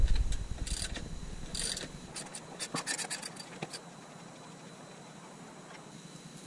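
Wrench working on the rear axle nut of a Yamaha TTR 125 dirt bike, turned in the loosening direction: a series of short, close scraping and ratcheting clicks in the first few seconds, then quieter handling.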